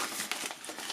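A paper envelope handled up close, with a continuous soft crinkling and rustling of the paper over about a second, with no pauses, at moderate loudness.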